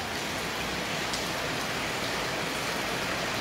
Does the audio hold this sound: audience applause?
no